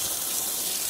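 Water runs from a garden hose around a drain at a duck pond to make a dirt slurry, a brief, steady and fairly soft gushing hiss.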